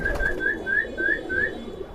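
A blue checker pigeon calls in a quick series of six rising whistled notes, close and clear over faint background noise.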